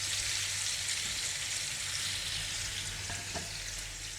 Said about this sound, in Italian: Alziamo la fiamma e iniziamo a far cuocere le nostre seppioline